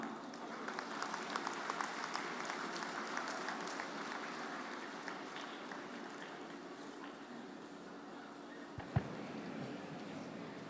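Audience applause at a university convocation ceremony, a sustained, somewhat distant patter of many hands in a large hall that softens gradually, with one sharp knock near the end.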